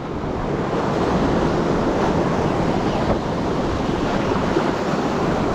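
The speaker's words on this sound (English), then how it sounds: "Swell's picking up now. Wind's picked up a little." Steady roar of sea swell and gusting wind on a winter coastline, constant and loud throughout with wind buffeting the microphone, no voices.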